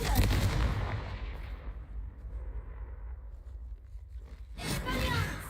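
Fiery Confringo spell blasts erupt in a Harry Potter video game, a loud booming burst at the start, a fading rumble, then another sharp blast near the end, with a voice over part of it.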